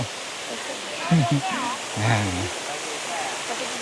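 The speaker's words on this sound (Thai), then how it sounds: "เราก็มาถึงน้ำตกร้อนกันแล้ว" A hot spring waterfall at Khlong Thom in Krabi rushes in a steady, close, full wash of water, with brief voices talking over it.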